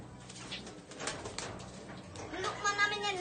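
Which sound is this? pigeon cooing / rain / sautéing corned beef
pigeon cooing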